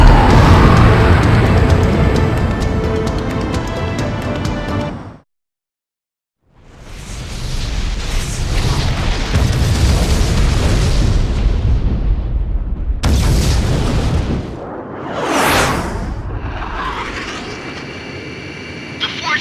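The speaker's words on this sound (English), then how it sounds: "The shock cannon is preparing to fire again!" The shock cannon in the video game Ace Combat X fires amid explosions: loud, heavy booms and rumbling roars with jet noise, a brief drop to silence, then more blasts and a rising sweep, with voices calling out over the action.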